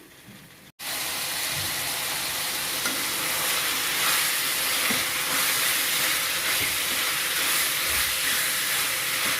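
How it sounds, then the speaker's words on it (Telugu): Marinated chicken goes into a hot pan for chicken curry and is stirred: after a short quiet start comes a loud, continuous frying sizzle, with faint scraping of the stirring underneath. "సో మనం నానబెట్టుకున్న చికెన్ అంతా ఇందులో వేసేసుకొని ఒకసారి కలిపేసుకుందాం"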